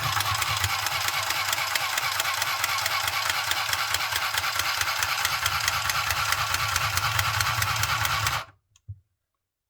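A mini handheld sewing machine making a quick seam repair, giving a loud, steady buzzing whir that runs continuously for over eight seconds before cutting off abruptly, followed by a faint click.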